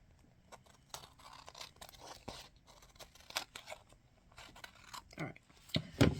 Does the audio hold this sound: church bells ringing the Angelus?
no